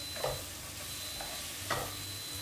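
Cod and vegetables sauteing in a nonstick skillet give off a steady low sizzle, with a few brief scraping stirs standing out near the start and end.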